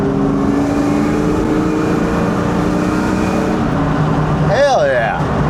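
A Ford Mach 1 Mustang's engine rumbles steadily and loud up close, a deep continuous roar with a brief rising rev near the end, while a person talks over it.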